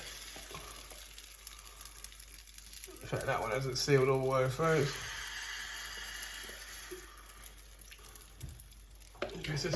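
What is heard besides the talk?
crumpet batter sizzling in a pan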